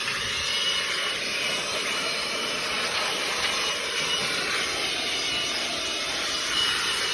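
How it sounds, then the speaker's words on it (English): A powerful blower forces air and debris out of a central AC unit, producing a steady, loud broadband roar that holds evenly from start to finish with no talking. "We're going to take our blower, and we're going to blow out"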